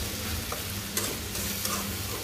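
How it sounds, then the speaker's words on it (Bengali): Okra being stir-fried in a pan, a soft continuous sizzle with a few scraping stirs of the spatula, close and without speech. "বলতে বলতে আমার ঢেঁড়স ভাজিটা হয়ে গেছে, এখন নামিয়ে নিব"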